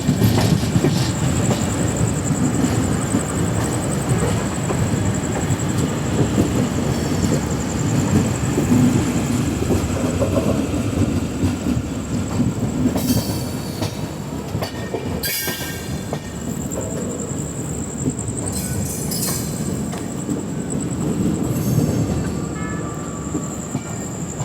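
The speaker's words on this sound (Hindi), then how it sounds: "हमारी ट्रेन तो अब डाइवर्ट होने दे रही है छत्रपति संभाजी नगर की तरफ" The Ajanta Express train running on rails, a loud continuous rumble of wheels with a steady high whine and occasional squealing and clattering over nearly half a minute, with no voices.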